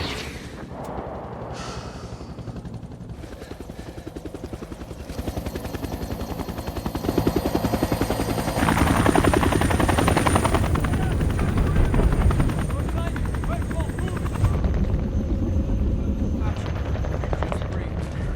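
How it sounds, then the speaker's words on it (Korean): Rescue helicopter in a war film, a loud, steady rotor roar building and holding throughout, mixed with gunfire-like bursts and voices speaking over it. "매튜스와 아이작은 마침내 구조 헬기에 실려 전장을 벗어납니다"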